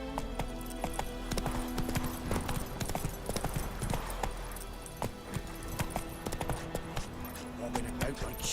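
A horse's hooves gallop in a steady clip-clop rhythm in the video game The Witcher 3, with jangling tack and faint background sounds beneath it.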